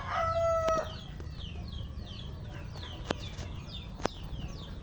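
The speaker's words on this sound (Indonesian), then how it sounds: "Ini jelas gambaran bebek dan juga ayam yang ada di sekitar pekarangan rumah saya." Chickens and ducks in a home yard, with a rooster crowing once near the start, followed by soft clucking, two sharp taps and steady outdoor background noise.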